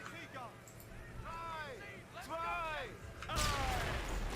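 A loud explosion booms in the Company of Heroes battle at Hill 112 near Caen. The long, broad rumbling blast arrives near the end, after someone speaks over faint background game noise.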